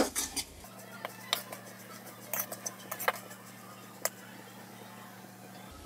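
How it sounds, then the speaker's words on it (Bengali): Turmeric and chilli powder are mixed in a pan while cooking kochur loti. Quiet, intermittent scrapes and light metallic clinks of a utensil against the pan sound over a low, steady background hum. "এখন ভালো করে একটু মিশিয়ে নিচ্ছি।"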